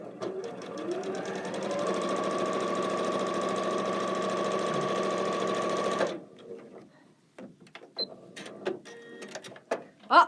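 A sewing machine stitches fabric bars together in a steady, close, rapid whir for about six seconds, then stops, followed by a few scattered handling clicks and small knocks.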